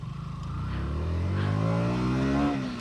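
A 2025 KTM Duke 160 single-cylinder motorcycle revs up steadily, its engine note rising in pitch over a few seconds and easing off at the end, loud and close with no talk.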